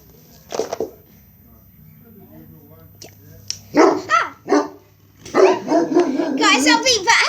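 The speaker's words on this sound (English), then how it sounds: "my dog's still a little bit jumpy, but if she starts barking again, I'll pause it" A pet dog indoors barks in short, close bursts, with yips and excited whimpers in between and a quieter gap partway through.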